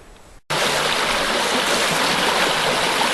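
A stream of flowing water in a winter woodland rushes in a steady, loud, continuous wash that starts abruptly after a brief quiet moment and carries on without a break.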